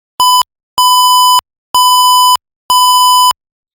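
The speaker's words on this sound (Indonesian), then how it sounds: "Di sini buzzer akan menyala dengan sangat nyaring." A loud, piercing buzzer on an IoT electricity-usage monitor sounds four steady beeps, the first short and the rest longer, signalling a dangerous power level, with silence between beeps and nothing else heard.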